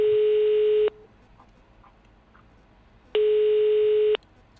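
A telephone rings in the video game Hello Neighbor 2: two loud electronic tones, each about a second long, separated by a couple of seconds of quiet.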